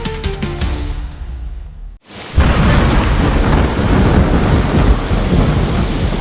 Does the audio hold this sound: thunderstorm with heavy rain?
yes